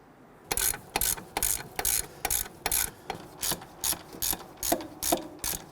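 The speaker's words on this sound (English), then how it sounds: "go ahead and snug those down with our ratchet" A hand ratchet snugging lug nuts on a 2011–2019 Ford Explorer, a close, crisp clicking in about a dozen regular bursts, each stroke a quick rattle of pawl clicks.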